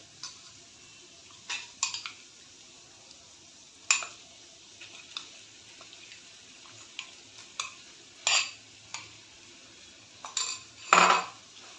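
A metal spoon scrapes and clinks against a pan as marinated prawns are stirred into masala, sharp intermittent clatters over a faint sizzle.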